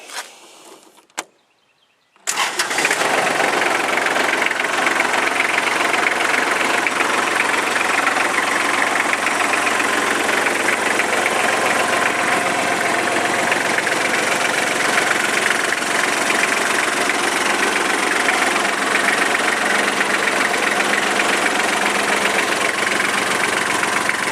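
A three-cylinder Kubota tractor with a back scoop cranks up after a brief starter whir and then settles into a loud, steady diesel idle with a constant rumbling vibration.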